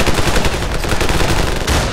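Rapid automatic gunfire from a Ravenfield first-person shooter battle, a dense, continuous loud rattle of shots filling the whole stretch with no pause.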